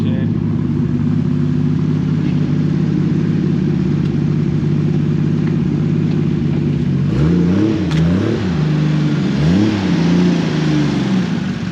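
A 1000-horsepower Toyota Supra in a driveway holds a loud, steady high rev during a burnout, then drops and rises again in three quick revving surges, with voices nearby.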